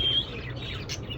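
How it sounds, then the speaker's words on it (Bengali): Myna or starling (shalik) at a bird shop in Sonaimuri, Noakhali, giving a short bright chirping call, close and moderately loud over a low background hum. "একটু পর পর সাউন্ড করে কি শালিকে?"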